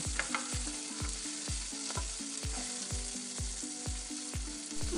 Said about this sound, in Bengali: এরপর সেই তেলের মধ্যেই আমি দিয়ে দিচ্ছি একটা লঙ্কা আর কালি জিরে আর কুচনো পেঁয়াজ দিয়ে খুব ভালোভাবে ভেজে নেব